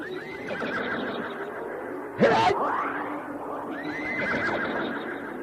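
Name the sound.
phantom horse neighing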